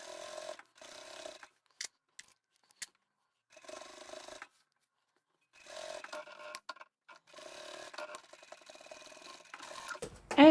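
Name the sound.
sewing machine back stitching a cushion cover seam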